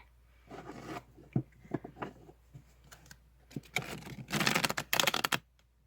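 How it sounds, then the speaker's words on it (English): A deck of tarot cards being shuffled by hand, with irregular bursts of riffling and slapping, growing busier and louder toward the end, close and without talk. "Sorry for the terrible shuffling again."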